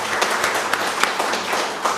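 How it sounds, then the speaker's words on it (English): Scattered handclaps from an audience at a university website launch, a steady crackle of clapping with a few sharper claps standing out, filling the hall for a couple of seconds with no one speaking. "I would want each one of you to applaud on that."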